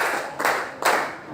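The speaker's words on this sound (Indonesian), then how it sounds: "Tepuk 3." A classroom of physics students claps in unison on the teacher's command, two sharp group claps about 0.4 seconds apart rising over a dense, steady clatter of scattered hands.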